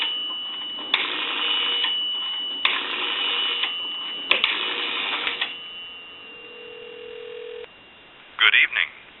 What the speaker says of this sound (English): I'll go ahead and give you some dial tone.